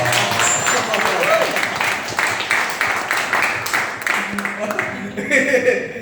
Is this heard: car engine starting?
no